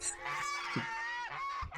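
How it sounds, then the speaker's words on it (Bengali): Domestic ducks at a hill village in Khagrachari, giving a short burst of nasal honking quacks close by, overlapping and continuous for under two seconds. "এখানে হাঁসগুলো থাকে"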